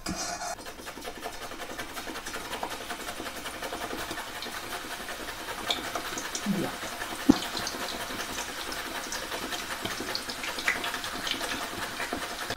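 Banana slices sliced straight into hot coconut oil in a pan for Kozhikode-style banana chips, with a steady bubbling hiss of frying that runs throughout, broken by a few soft clicks and taps.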